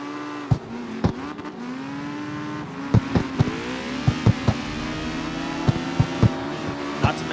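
A modded car in CarX Street with sound mods revving hard, its engine note sweeping up and down through repeated throttle blips, punctuated by sharp pops and crackles from the exhaust.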